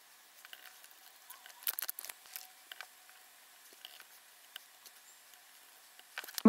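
Soft, quiet key presses on a cheap electronic dictionary keyboard tapping out an irregular rhythm, with a few slightly louder clicks, against near silence.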